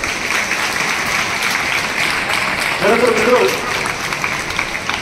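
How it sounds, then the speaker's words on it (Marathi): An audience gives applause for teachers at a Constitution Day school gathering, heard as a steady wash of clapping throughout while someone speaks briefly over it. "त्या सर्वांसाठी मित्र तुम्ही एकदा जोरदार टाळ्या वाजवायचं"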